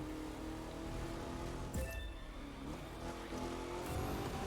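Stretch limousine drifting on a track, its engine droning steadily throughout with brief tire squeals and a rising rev near the middle, fairly loud and close.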